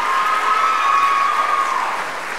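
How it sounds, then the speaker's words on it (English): Concert audience applauding a singer at a university choral performance: dense, steady clapping fills the room, with a faint sustained whistle-like tone running through most of it. "please give her a applause."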